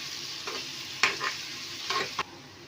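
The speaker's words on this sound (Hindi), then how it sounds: "तो हमारा ऑयल गर्म हो चुका है, हम इसमें ऐड कर देंगे प्याज" Onions tossed into hot oil in a home kitchen while preparing mustard-greens and spinach saag mutton, giving a steady low sizzle with a few louder stirring scrapes and clatters near the pan.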